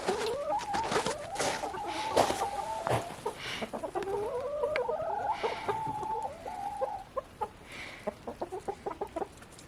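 Chickens cluck and squawk inside a homestead chicken coop, a busy run of close, rising calls followed by short, clipped clucks, with no voices.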